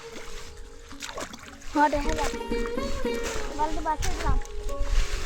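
A shrimp net is washed in river water while collecting shrimp fry: irregular nearby splashes and sloshing, with people talking throughout.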